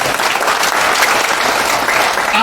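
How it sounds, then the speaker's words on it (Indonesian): Sustained audience applause at a regional FGBMFI convention session fills the room, dense and even for a few seconds with a faint voice beneath. "Tepuk tangan dong."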